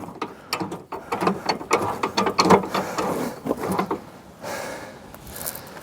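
A ratchet being cranked to lower the spare tyre on a Hyundai Teracan, rapid clicking pawl bursts in short irregular runs, close up, with a pause near the end.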